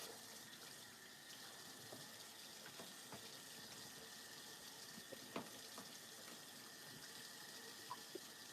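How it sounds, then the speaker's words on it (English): A kitchen tap runs a quiet, steady stream of water over a ham being rinsed in the sink, with a few faint clinks and splashes. "I'm gonna rinse my ham."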